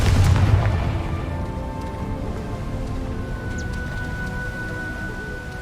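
A Confringo spell blast in the video game Hogwarts Legacy lands as a single deep boom at the start, then fades into a steady low rumble and sustained tonal background.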